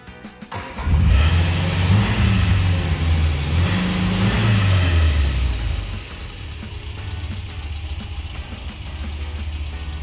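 A 1965 MGB Mk1 roadster's engine cranks and catches, then revs up and down twice before settling into a steady, rumbling idle, close by with no talk.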